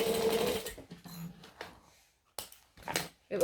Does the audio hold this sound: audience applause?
no